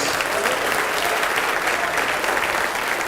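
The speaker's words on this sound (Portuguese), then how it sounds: "Vamos aplaudir mais ao nome de Jesus" A church congregation applauds, a dense, loud, sustained clapping from a crowd filling the whole stretch.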